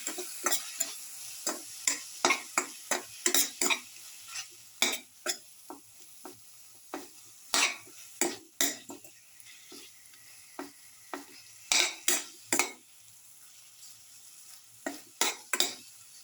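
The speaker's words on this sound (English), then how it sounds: "Keep on salting and crushing tomato." Salted tomatoes are crushed and stirred in a pan, a series of sharp utensil scrapes and taps in irregular bursts, close and clear over a quiet background, with no talking.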